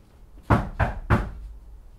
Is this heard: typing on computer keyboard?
no